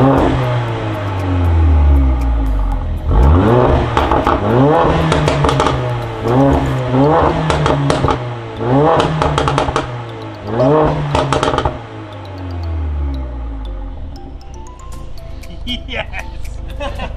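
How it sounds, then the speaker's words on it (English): Car with a Remus cat-back performance exhaust revving repeatedly, loud rising and falling engine sweeps with crackling pops and bangs on the lift-off, then settling to idle as people talk nearby. "So you can hear it now with the performance exhaust"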